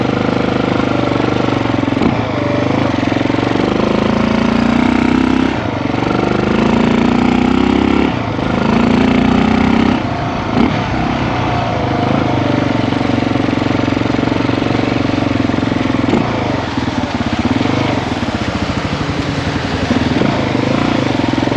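A Yamaha TT350 trail motorcycle engine runs steadily at close range, a continuous loud mechanical drone with rising and falling revs through the first ten seconds before settling into an even idle-like rumble.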